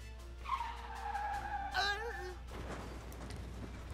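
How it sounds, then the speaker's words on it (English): Tires squeal as a car skids in a chase in the Manual Samuel video game, a sliding screech that rises and bends for about two seconds before fading into quiet background. "Is the car getting closer, or am I just going insane?"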